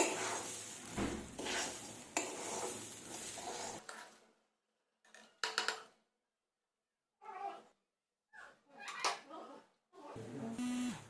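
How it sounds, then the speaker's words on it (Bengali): Rice is fried and stirred in a pan, giving short bursts of scraping, clinking and soft sizzle separated by silent gaps. "এভাবে ভেজে নেব ভালোভাবে চালটিকে"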